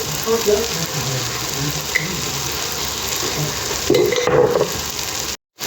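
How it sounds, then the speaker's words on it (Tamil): Chilli powder, pepper, turmeric and ginger-garlic paste sizzle and crackle in a hot pan for egg bhurji while a utensil stirs and scrapes through them, steady and close, ending in a brief cut. "இங்கே நம்ம போட்டாச்சு எல்லாத்தையும் ஒன்றா நல்லா கலக்கிக்குவோம்"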